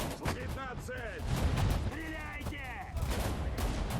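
Gunfire and battlefield explosions in the World War II strategy game Sudden Strike 4, set in a Finnish winter battle near a railway station, with repeated loud volleys and blasts over a steady din while someone speaks throughout.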